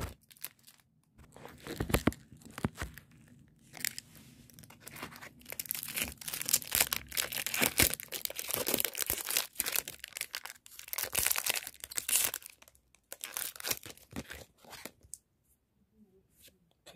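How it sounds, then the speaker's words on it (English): A Pokemon Brilliant Stars card pack being torn open and handled, with dense crinkling and rustling of foil wrapper and card shuffling over several seconds, close and fairly quiet with pauses between bursts. "today I'll be opening a packet of Pokemon cards"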